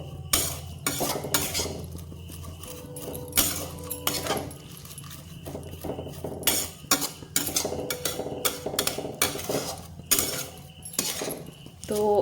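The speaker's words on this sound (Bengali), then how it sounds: "এভাবে নাড়িয়ে চাড়িয়ে নিব" Semai is stirred with sugared milk in a pan for jorda shemai, bringing loud repeated metallic scrapes and clanks of a spoon against the pan in an irregular close rhythm.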